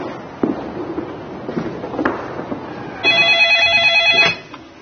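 An office telephone at a building's reception desk rings with one loud electronic trill of about a second, after quiet footsteps and faint room noise.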